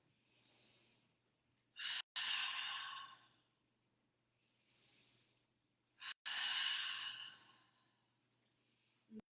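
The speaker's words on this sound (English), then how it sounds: "Let's take 3 full rounds of open mouth exhale." Two long, forceful open-mouth exhales during a yoga power flow class, each a loud breathy whoosh lasting a few seconds, with softer inhales between, close and alone without talk.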